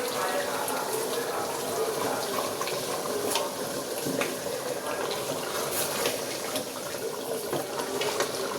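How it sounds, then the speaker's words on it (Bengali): Hot water pours steadily into a pot of cooking beef bhuna, a continuous close splashing rush of moderate loudness with no clear breaks. "এখন আমি একটু পানি দিয়ে দিচ্ছি, গরম পানি দিব"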